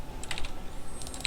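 Keys on a computer keyboard are struck in short irregular bursts at close range while Starcraft 2 is played, a few sharp clicky taps over faint background hum, with no voices.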